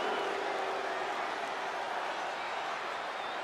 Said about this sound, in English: Hear the boo crowd